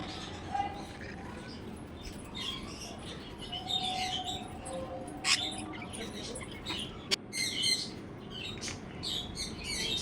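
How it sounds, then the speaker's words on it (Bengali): A newly brought baby pet bird in a cage gives scattered high chirps and short tweets over a quiet indoor background, intermittent and fairly faint, with light pattering sounds between calls. "এই পাখিটা নতুন আনা হয়েছে, একদম বাচ্চা। ওকে একটু রেখেছি খাঁচায়"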